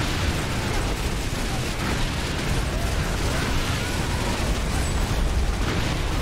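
Airstrike explosions pound the battlefield in Earth Defense Force 4.1, merging into a dense, unbroken roar of blasts and rumble that stays loud from start to finish.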